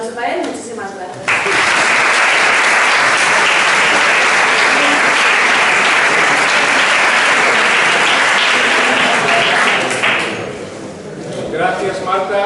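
Lecture audience at a science café talk on umami breaking into loud, sustained applause that swells for about nine seconds and then fades, with some voices heard at the start and end.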